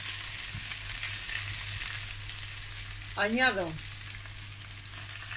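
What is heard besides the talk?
garlic, onion and bay leaf frying in oil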